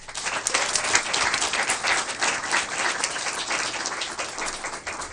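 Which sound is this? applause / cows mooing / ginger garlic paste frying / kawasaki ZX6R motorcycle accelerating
applause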